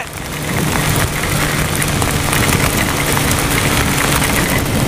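Heavy rain or hail pelting a rider on a sport motorcycle on a highway, a loud, steady broadband roar of drops and wind noise with a low engine hum beneath, continuous throughout.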